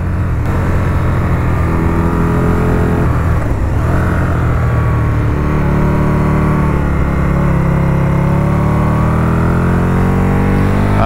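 Aprilia RSV1000R motorcycle ridden on an open road, its engine loud and near, pitch dropping, then climbing again through rising revs over several seconds, with a brief dip in between.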